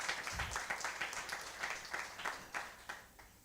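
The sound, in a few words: audience applause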